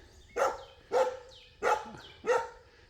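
A dog barks four times in an even, unhurried rhythm, close and clear against a quiet outdoor background, with no talk.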